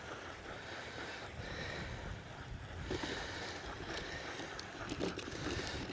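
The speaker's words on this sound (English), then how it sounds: "pretty windy out here" Gusty wind buffeting a microphone outdoors in a yard during spring grass seeding, a steady broadband rush that swells and dips without pause, with no voices.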